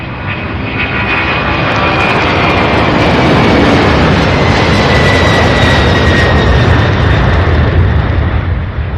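A heavy plane takes off from Louisville International Airport (SDF), close and very loud. The engine roar is continuous and rumbling, with a whine sweeping slowly downward.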